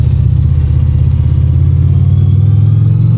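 Indian Roadmaster PowerPlus Dark Horse bagger with its liquid-cooled V-twin running through the factory exhaust, a loud, close, steady low rumble with an even pulsing throb throughout.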